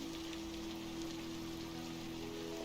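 Steady rain hiss in the Scrap Mechanic game, a continuous soft wash with faint low hum, no talking.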